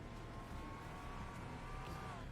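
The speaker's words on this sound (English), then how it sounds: "Listen to that engine purr." A vehicle engine from the Halo Wars 2 video game hums with a steady, low, quiet drone and a faint rising whine, with no speech over it.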